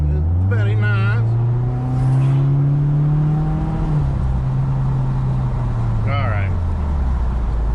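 A 2016 Subaru WRX with a CVT accelerating on a city street, its close, steady engine drone rising in pitch, then easing off as it settles back to cruising, with brief voices inside the cabin.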